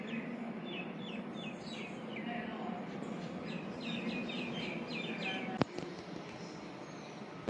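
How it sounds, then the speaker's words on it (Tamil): A flock of mynas in the Seychelles keeps up repeated short, chirping calls in a series of quick bursts over a steady outdoor hiss, with a sharp click near the end. "நிறைய மைனா வந்து நிற்குது."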